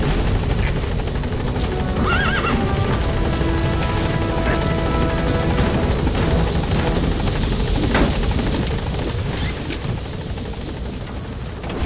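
The Pequod helicopter in Metal Gear Solid V lifts off, its rotor thrumming loud and continuous over a dense broadband roar, with a horse's whinny briefly rising in the mix.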